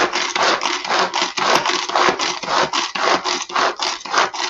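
A hand-pulled chopper finely chopping onion gives a steady, loud, rhythmic whirring rasp of blades cutting through onion, repeated pull after pull with no pause and no voices.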